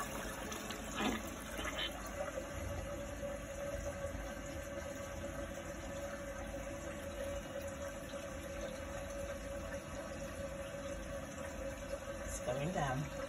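Toilet flushing after being unclogged, a steady rushing water wash lasting the whole stretch with a faint hum beneath it, heard close in a bathroom.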